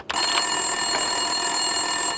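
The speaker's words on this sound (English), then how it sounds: "Winterson's phone was ringing." A desk telephone rings steadily in an office scene of the video game Max Payne 2, a continuous electronic ringing tone that carries on alone without any talking.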